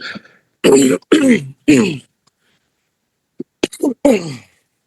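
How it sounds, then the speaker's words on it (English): Several loud, close throat clearings come in a quick cluster of three, then after a short silence a few more rough, harsh clears. "I had to clear my throat"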